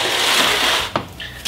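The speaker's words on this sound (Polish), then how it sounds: "A to blenderem." An electric blender whirs loudly while mixing gingerbread ingredients, a steady grinding drone that cuts off abruptly near the end, followed by a couple of brief clunks.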